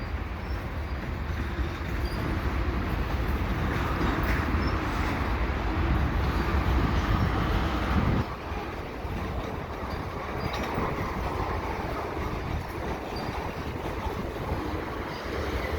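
CPKC freight train rolling past at Lachine in the rain, a loud sustained rumble of railcars with wind buffeting the microphone, easing slightly partway through and continuing steadily.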